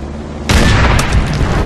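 A rocket launcher explosion in the video game Call of Duty World at War bursts in suddenly as a loud, booming blast that stays dense and rumbling for over a second before cutting off.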